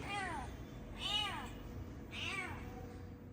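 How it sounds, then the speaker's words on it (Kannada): Kittens kept upstairs in a house give three thin, high meows spaced about a second apart, fairly faint over a low background hiss. "ಇದು ಮೇಲ್ಗಡೆ ಇರುವಂಥ ಬೆಕ್ಕಿನ ಮರಿಗಳು"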